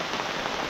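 Heavy rain pours down in a dense, unbroken hiss, close and fairly loud, steady throughout with no voices.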